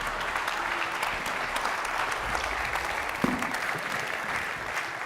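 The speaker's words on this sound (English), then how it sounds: "Let's give them a hand." Applause for the jury at a blockchain summit, a soft, even wash of clapping from a crowd in a hall, steady and somewhat distant with no standout claps.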